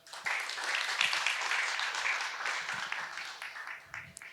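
A short burst of audience applause for startups introduced at a pitching session of an innovation forum, rising quickly and holding briefly before thinning out toward the end.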